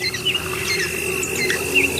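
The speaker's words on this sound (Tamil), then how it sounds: "சிறிய பறவை குஞ்சுகளின் கீச்சொலி கேட்கிறதே." Small bird chicks give a few brief, thin chirps, faint and spaced out over a steady background hum.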